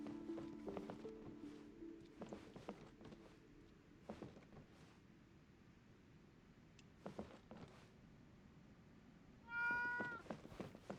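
A cat lets out a clear, close meow near the end, after a stretch of faint taps, soft steps and scattered clicks in a quiet room.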